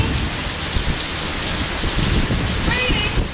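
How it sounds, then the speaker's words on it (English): Steady heavy rain hisses down in the Tampa Bay area, a dense, close wash of drops on surfaces that continues without break, with a faint chirping sound near the end. "It's raining here in the Tampa Bay area."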